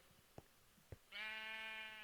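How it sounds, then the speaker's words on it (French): A Minecraft sheep lets out a single sustained bleat after a couple of soft clicks, fairly loud and alone with no talking. "Le mouton est toujours là?"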